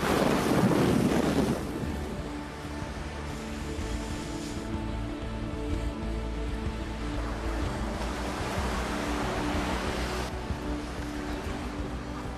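Strong wind gusts across open water on a blustery day in Kazakhstan, buffeting the microphone loudly at first, then a steady rushing roar with waves lapping, no voices.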